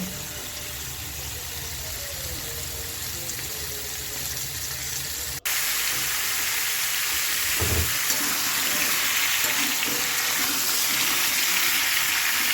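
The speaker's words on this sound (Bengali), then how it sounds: "সবজিগুলোকে আমি একটু লবণ দিয়ে ভেজে নেব" Carrot, pumpkin, sweet potato, potato, papaya and radish frying with salt in a pan, a steady close sizzle that jumps louder partway through, with a brief clank of utensils.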